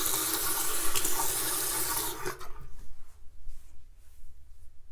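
Water from a tap runs steadily and fairly loudly as hair is wetted, then cuts off after about two seconds, leaving faint dripping and low handling noise.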